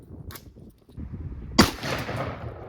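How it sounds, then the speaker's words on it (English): A single loud blast from a 12-gauge shotgun fired with incendiary rounds, a sharp broadband report followed by a lingering roar and crackle; a fainter pop sounds just before it. "Just gonna run a few incendiaries through it."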